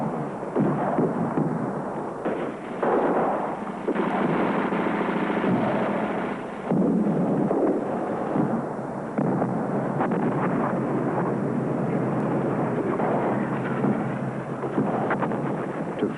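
Live ammunition fired during Nazi field maneuvers, a dense rolling roar of rapid gunfire and booming blasts that surges and continues almost unbroken, as in an old archival recording.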